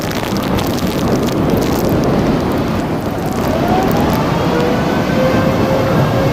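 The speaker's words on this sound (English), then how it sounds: "liftoff of the United Launch Alliance Atlas V rocket, carrying ViaSat-3 Flight 2" United Launch Alliance Atlas V rocket engines at liftoff carrying ViaSat-3 Flight 2, a loud, steady, broadband roar that stays dense and unbroken throughout, with no voices over it.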